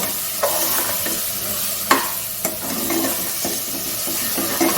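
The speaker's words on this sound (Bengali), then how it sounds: "ভালো করে মশলাটা কষিয়ে নেব।" Spice masala for a mutton ghugni frying in a pan, the constant hiss of oil broken by sharp scrapes of a spatula being stirred, close and fairly loud with no voices.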